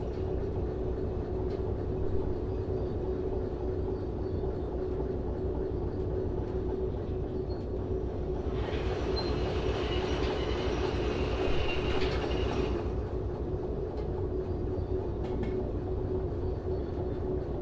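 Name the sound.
train rolling on rails, from video game Derail Valley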